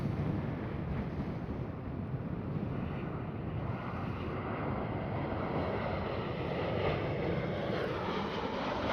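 Dutch Coast Guard Dash 8-100 turboprop at Schiphol Amsterdam, a faint distant steady engine drone mixed with wind buffeting the microphone, no voices.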